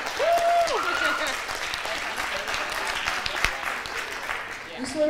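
An audience applauds panelists at an event on young women in the skilled trades, a sustained, dense clapping that fills the room, briefly overlapping with voices as it continues and tapers slightly toward the end.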